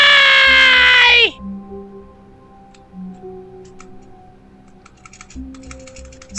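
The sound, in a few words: pressing computer keyboard spacebar while playing The Stanley Parable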